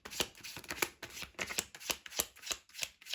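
Tarot cards are shuffled and dealt in quick, crisp bursts, roughly one riffle or snap every half second, close and clear with no talking.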